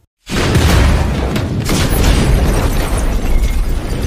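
A loud film explosion during a militant attack erupts after a brief silence, followed by a long roaring rumble that stays dense and heavy until the end.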